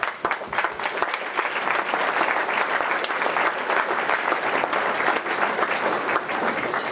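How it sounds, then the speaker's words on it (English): Banquet guests at a pro-life center dinner applaud a volunteer called to the front, loud, even clapping from a full room that carries on steadily for several seconds. "Let's give Jeff a applause."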